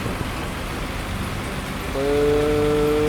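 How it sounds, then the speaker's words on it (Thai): Steady loud rain beats down around a CAT 323GC excavator in the field, a continuous hiss throughout, with a sustained tonal whine rising in over the final second. "ฝนดังชิบหายเลย"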